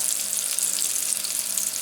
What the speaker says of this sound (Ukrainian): Будемо смажити рибку, викладаємо карасів.